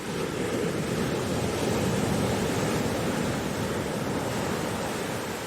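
Ocean waves roll and break onto a sandy beach in a steady, continuous broadband wash, moderately quiet, with no voices.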